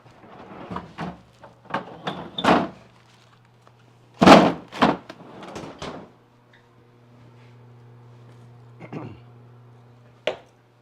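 A kitchen freezer door thunks shut after steaks go back inside, one firm close among several softer knocks and handling bumps, near and moderately loud, with a low steady hum underneath.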